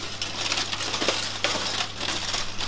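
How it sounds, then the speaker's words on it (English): Crinkly tin foil is peeled back from a dish of cauliflower baked in the oven for about an hour, giving a steady close rustle and crackle with a few sharper crinkles. "I'm just going to open the tin foil up"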